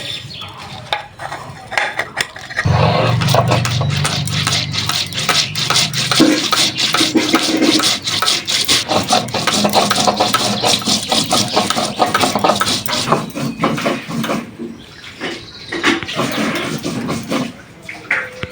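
Cumin is ground in a kitchen appliance, a loud whirring, rattling motor starting after a few quiet seconds and running steadily for most of the time before easing off near the end.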